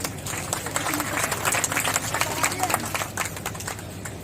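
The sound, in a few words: applause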